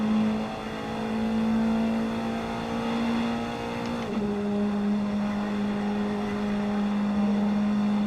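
A race car runs on a track during a night speed event, its engine giving a steady loud drone and dropping briefly in pitch midway, as though shifting gear.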